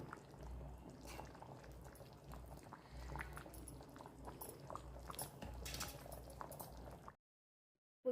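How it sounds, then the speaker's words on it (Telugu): Fish curry (pulusu) with mango pieces boils on a stove, a soft continuous bubbling and gurgling at low level that stops abruptly near the end, with no one speaking. "పులుసు మరుగుతుందండి."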